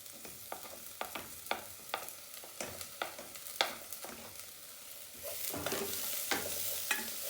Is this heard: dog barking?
no